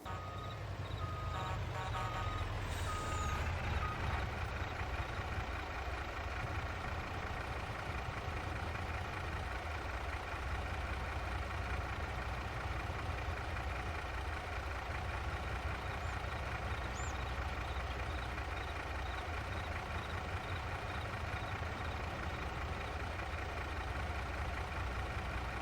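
A crane truck in Farming Simulator runs steadily at idle throughout, a constant low diesel drone with a faint mechanical whine near the start and no voices.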